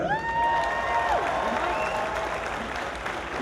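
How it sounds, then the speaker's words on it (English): Fans applauding at WrestleMania 32 Axxess during an in-ring Q&A, a sustained wash of crowd clapping with a few whoops and cheers rising over it. "Can I get a round of applause for that?"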